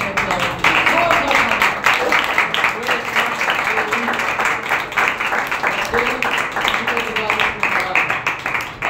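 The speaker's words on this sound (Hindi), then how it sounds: "आइए जोरदार ताली बजाएंगे" A church congregation claps hard and continuously, a loud, dense wash of applause that lasts throughout, with voices mixed in.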